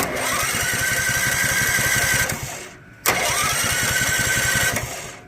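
The starter on a Duromax 208 small engine engages through its solenoid and whirs in a loud, steady mechanical drone, cuts out briefly, then kicks in again for a second sustained burst.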